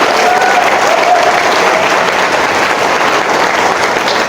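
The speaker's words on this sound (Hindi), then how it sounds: "जोरदार तालियां मांगने के लिए।" An audience at a motivational seminar gives loud, sustained applause, with dense clapping throughout that eases slightly toward the end.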